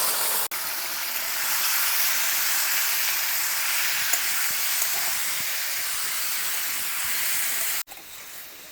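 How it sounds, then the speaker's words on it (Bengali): Marinated chicken frying in hot mustard oil in a wok gives a steady, loud, close sizzle and hiss that runs nearly unbroken, then drops away abruptly near the end. "তেল গরম হয়ে গেছে, মাখিয়ে রাখা মাংসকে ভেজে নিব।"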